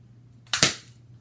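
A Lego M416 toy gun fires once, a quick sharp snap with a short double crack, close and alone against a quiet room.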